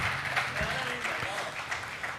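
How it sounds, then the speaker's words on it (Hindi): Audience applause welcomes the poets onto the stage at a poetry gathering at Lovely Professional University, a steady wash of clapping that runs throughout under a speaking voice. "तालियों से इस्तकबाल करें इस मंच का, तमाम शायरों का, कवियों का"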